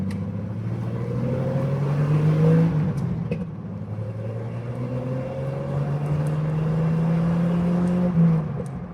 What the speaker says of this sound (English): really lay into the pedal on this. And okay, here we go. This is my highway on-ramp right here.